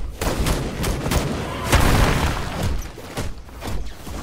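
Gunfire in the video game Battlegrounds, a string of irregular shots and booms, some bursts closer and louder, over a rumbling game soundscape with no clear talk.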